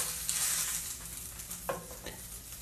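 Corned beef frying in beef grease in a cast iron pan, a steady crackling sizzle with a couple of brief scraping stirs and clinks of the pan.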